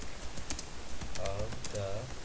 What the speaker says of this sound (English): we are going to type our header